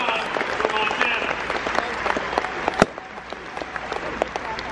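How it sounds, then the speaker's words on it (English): Applause and scattered cheers from a political rally crowd in Billings, Montana, saluting a senator, a dense wash of clapping with sharp individual claps and whoops rising above it, heard from within the audience. "Can we give Steve Daines a round of applause for his service to this state and country?"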